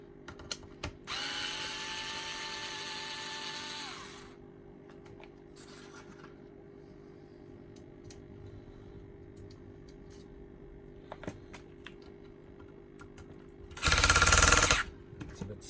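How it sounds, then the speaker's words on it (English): A power driver spins out screws from the front of a Goblin Electra Blue during a refurb: one whirring burst of about three seconds, then a shorter, louder burst near the end, with quiet handling in between. "what I'm going to have to do is remove the 4 screws"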